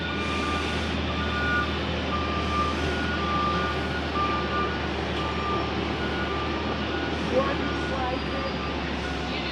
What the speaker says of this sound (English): sorry for the backing up dump truck